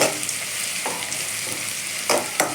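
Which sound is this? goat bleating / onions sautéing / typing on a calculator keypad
onions sautéing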